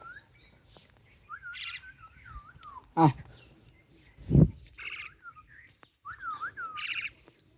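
A bird chirps in wavering, warbling calls close by, pausing between bursts, with a couple of soft thumps in between.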